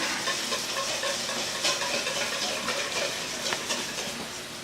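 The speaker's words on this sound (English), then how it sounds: "we just whisk this up." Egg yolks whisked in a bowl set over a bain-marie make a steady, soft, scratchy stirring texture with faint clicks of the whisk, continuous and fairly quiet.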